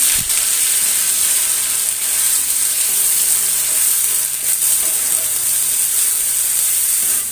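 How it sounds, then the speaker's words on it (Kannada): Onion and coconut paste sizzles in a pan with whole spices for restaurant-style chana masala, a steady, loud, close frying hiss that stays even throughout with no talk. "ಈಗ ಈರುಳ್ಳಿ ಕಾಯಿ ಪೇಸ್ಟ್ ಹಾಕ್ಕೊಂಡಿದ್ದೀನಿ"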